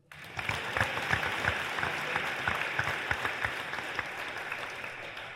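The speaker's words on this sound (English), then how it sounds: "Round of applause for Nick" An audience at a high school wrestling signing day claps for an athlete: applause starts abruptly, then holds as a steady, moderately loud patter of many hands with a few sharper individual claps.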